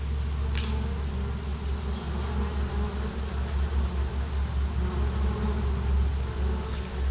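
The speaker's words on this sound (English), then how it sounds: "It was like 50 bees or more just circling around, circling around, circling around." Dozens of bees circle and zigzag around a hive entrance in a cluttered yard, making a continuous loud droning buzz up close, with no one talking.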